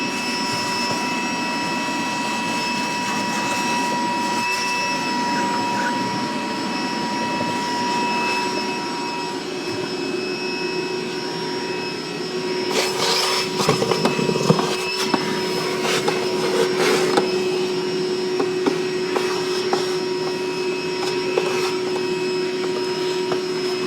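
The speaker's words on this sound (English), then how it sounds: "I'm going to vacuum off the debris that we have around it" A vacuum cleaner clears debris during a car audio install, a steady loud whining drone that holds throughout and grows rougher midway as material is sucked up.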